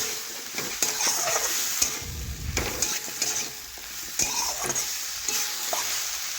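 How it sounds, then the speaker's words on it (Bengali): Tomatoes stirred and fried with spices in a pan for an aloo-broccoli curry: a steady sizzle of frying with repeated scraping and stirring strokes throughout, close and clear, with no talking. "এখন আবারও নাড়াচাড়া করে টমেটো একটু ভেজে নেব নরম হয়ে যাওয়া পর্যন্ত।"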